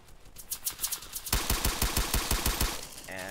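Rapid automatic gunfire in the video game Base Battles: a burst of loud, evenly spaced shots with a sharp onset partway through, preceded by lighter, quicker firing, with no talk.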